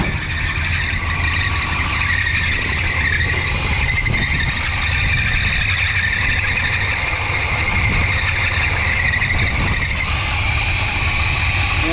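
A 1985 GMC C25 pickup's 454 7.4L V8 with a Turbo 400 transmission runs loud and close after running out of fuel, a constant heavy drone with a thin whine on top and no break or talking.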